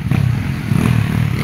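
A trail motorcycle at a competition growls and revs in short pulsing bursts, close and loud, with a rough clattering undertone.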